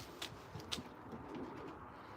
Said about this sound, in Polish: Też piękny gołąb.